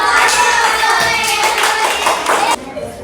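Classroom applause for a student who answered a maths quiz question correctly, a burst of many hands clapping together for about two and a half seconds before it cuts off abruptly.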